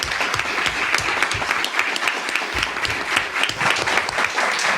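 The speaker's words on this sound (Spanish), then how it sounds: "No sin antes darle un fuerte aplauso a Enrique." An audience applauds at the close of a university book-presentation conference, steady dense clapping sustained throughout at close range with no voices over it.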